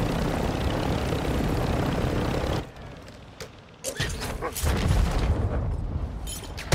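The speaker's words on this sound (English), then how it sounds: "Dude, this is not easy to fly." Loud rotor and engine roar from a helicopter flying in a video game drops away partway through, then returns among short clicks, thuds and bursts of noise.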